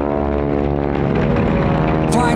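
An AT-6 propeller airplane, number 66 'Gunslinger', roars past during the AT-6 Gold air race in 2019 with a loud, steady, droning engine and propeller note that rises slightly as it passes.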